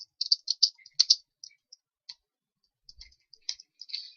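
Someone types on a computer keyboard while building a Google Site. Soft, sparse clicks come in irregular little bursts with short pauses between them, faint and close, with no talking.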